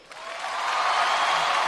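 Audience applause swelling quickly from quiet into a broad, steady wash of clapping from a large crowd, sustained at full strength.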